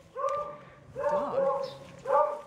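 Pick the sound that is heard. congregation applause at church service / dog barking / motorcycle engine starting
dog barking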